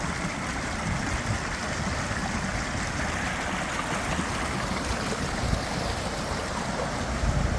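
Flood water rushes steadily through a culvert under a road with a constant, broad roar, like a strong flow pouring through a pipe, unbroken and fairly loud throughout.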